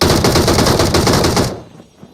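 Sustained automatic gunfire in PUBG Mobile rattles fast and loud at close range for about a second and a half, then stops abruptly and leaves a faint tail.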